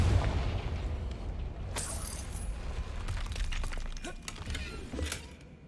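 A Confringo blasting spell explodes in the video game Hogwarts Legacy, a low boom followed by a sharp shattering crack and scattered debris clatter fading over several seconds.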